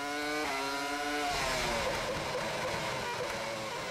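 Formula 1 cars from the 2002 season, a Ferrari and a Williams, race past with high-pitched V10 engines screaming, the pitch rising and then sliding down as they pass close by, loud and steady.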